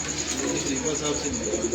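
Pigeon cooing during an indoor chat among pigeon fanciers, soft repeated coos continuous under a steady background hum, with a person's voice faintly present.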